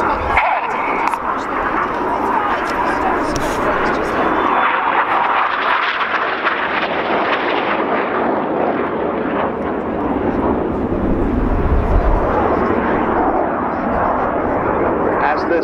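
RAF Red Arrows display jets at an air show, roaring loudly overhead in a sustained, swelling rush that builds toward the end, with an announcer's voice narrating over the engine noise.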